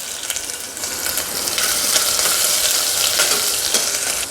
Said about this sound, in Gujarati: રાઈ, મેથી અને જીરું સરસ કકડી ગયા છે